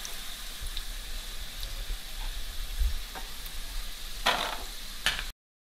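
Potatoes for aloo bhindi stir-fry and sizzle in a pan, turning lightly brown, with a steady soft crackle, a few scraping stirs near the end and a brief clatter before the sound cuts off.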